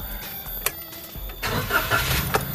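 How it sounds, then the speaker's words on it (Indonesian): Daihatsu Ayla M manual car from 2014 starting up: brief cranking clicks, then the small engine catching around the midpoint and settling into a steady, close idle hum with no talking. "Ketika gua nyalakan mobilnya,"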